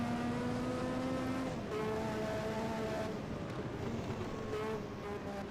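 Formula 1 cars racing at the 1986 Brazilian Grand Prix in a simulation, a McLaren overtaking: a continuous loud engine whine with gear-shift drops and pitch changes.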